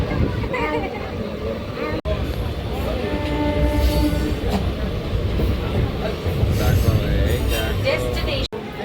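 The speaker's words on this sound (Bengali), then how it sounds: "এই ট্রেনটাও বেরিয়ে গেল, এতক্ষণে ট্রেনটা একটু ফাঁকাও হয়েছে" A passenger train pulling out of the station at Mankundu, a loud, close rumble with rattling carriages that continues steadily while people talk over it.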